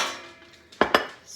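Two quick knocks and clinks as a greased cake pan is flipped over onto a white plate, close and fairly sharp, followed by soft handling noise.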